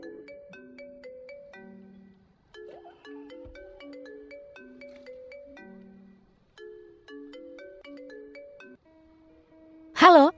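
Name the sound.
phone ringtone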